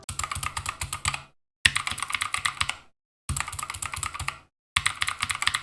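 Rapid clicky typing on a cheap gaming keyboard with blue switches fitted with O-rings, close and crisp, coming in four quick bursts separated by short silent gaps.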